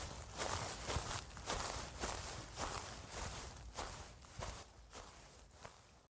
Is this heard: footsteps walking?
yes